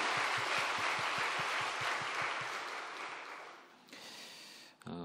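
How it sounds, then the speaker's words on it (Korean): A church congregation applauds: a dense, even burst of clapping that fades away over about four seconds, then a brief quiet. "우리 브라가 중창단 다시 한번 격려 박수 하시겠습니다"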